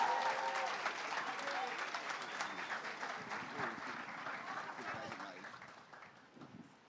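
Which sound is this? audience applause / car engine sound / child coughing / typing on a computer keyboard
audience applause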